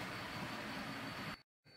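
A model train runs steadily on a model railway layout as a continuous rolling rumble that cuts off abruptly, briefly drops to silence, then resumes faintly.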